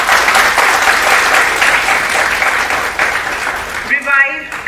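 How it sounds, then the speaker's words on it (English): An audience at a school prize distribution function applauds in a loud, steady roar of clapping that holds for several seconds before breaking off as a voice resumes. "A round of applause, please."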